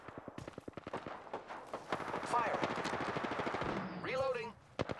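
Rapid automatic gunfire from Apex Legends, a steady rattling burst of close, loud shots that runs for several seconds before tapering off, with voices calling out over it.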